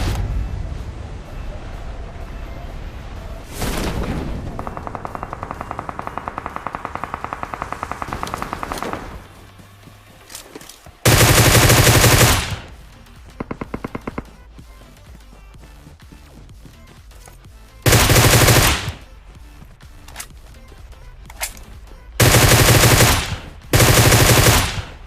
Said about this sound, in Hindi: मुझे सामने वाली पहाड़ी से गोली चलने की आवाज आती